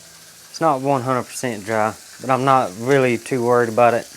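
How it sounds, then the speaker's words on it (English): Pork chops sizzle on a griddle in the background, a faint steady hiss beneath someone talking in the foreground. "If you hear the sizzling in the background, I got some pork chops on the griddle back there."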